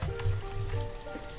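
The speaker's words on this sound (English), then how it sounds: "We've got rain, but we always seem to have rain." Rain falling in the town-building game Banished, a steady hiss of drops over a low rumble, with soft sustained musical tones faintly beneath it.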